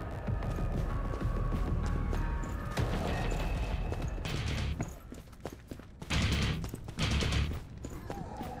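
Gunfire in Killing Floor 2 on PS5, rapid shots rattling over a busy low rumble of combat, steady through the stretch with a few louder bursts near the end.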